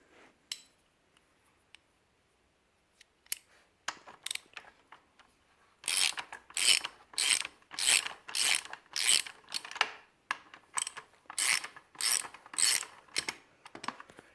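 Ratchet turning a 12mm deep socket to remove a brake caliper pin on a Honda CRF300L: a few isolated clicks, then a steady run of rapid ratcheting bursts in a repeating rhythm, close and clear with no talk.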